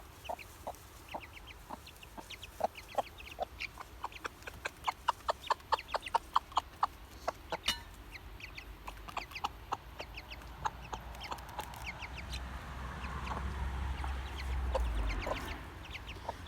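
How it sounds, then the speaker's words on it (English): Hen clucking among her chicks outdoors, a run of short soft clucks in quick rhythm, mixed with faint chick peeps and a low wind rumble rising toward the end. "There's Karen with her chicks."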